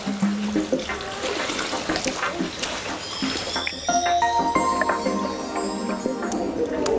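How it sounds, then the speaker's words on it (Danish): Water splashing at an indoor swimming pool during baby and toddler swimming, a continuous sloshing wash with scattered sharper splashes and faint voices echoing in the hall. "Det er bare plasken i vandet"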